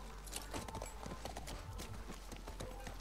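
Horse hooves in The Last of Us Part 1 clip-clopping in a quick, uneven rhythm on hard ground, with a faint low rumble underneath.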